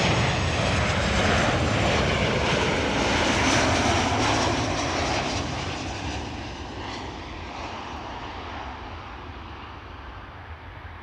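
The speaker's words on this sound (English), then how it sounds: "That was Tarom Flat 361, arriving from Bucharest." A Tarom passenger jet arrives from Bucharest, its engine roar loud and close at first, then fading steadily as it passes and moves away.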